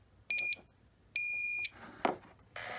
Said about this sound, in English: when we do have continuity, it's going to beep